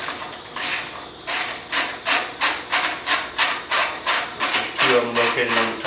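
Quick, loud ratchet clicking near at hand as a socket wrench loosens the rear exhaust canister nuts on a 2009 Kawasaki Vulcan 900 Custom SE, a regular run of around a dozen strokes.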